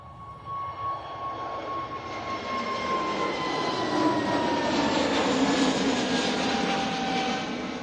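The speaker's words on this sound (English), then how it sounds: "Emirates is on a taxi towards us." An Emirates airliner taxis at Manchester Airport, its jet engines producing a steady, fairly loud roar with a faint high whine that holds throughout, with no voices.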